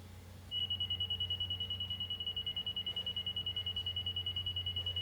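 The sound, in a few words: laser receiver beeping even tone when on line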